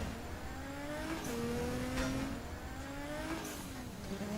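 Mazda Miata racing in Garry's Mod off-road championship, engine revving up and down through gear shifts in rising whines, with brief tire scrapes, loud and continuous with no talk.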